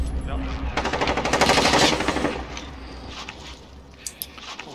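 Rapid bursts of automatic gunfire in Call of Duty: Warzone rattle loudly for a couple of seconds, then fade to a few scattered distant shots.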